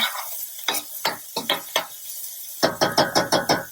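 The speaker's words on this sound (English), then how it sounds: "at the start of frying the onions, sauteing the onions" Onions and garlic sizzle over medium heat in a hot pan while a spoon stirs in bursts, first scattered scrapes, then a quick run of rhythmic stirs, close up.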